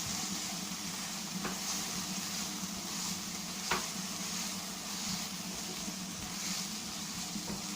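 Mushroom masala with turmeric, coriander and salt sizzles steadily in a pan while being stirred, a continuous crackling hiss with occasional soft scrapes and taps of the spoon, no voices.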